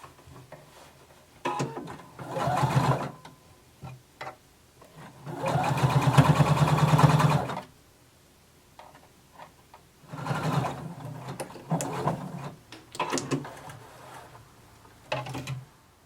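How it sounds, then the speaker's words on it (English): Sewing machine stitching close to the folded edge of a jacket sleeve hem in several separate bursts, the longest lasting about two seconds, with quiet pauses and fabric handling between runs. "I'm going to sew very close to the folded edge to create my hem"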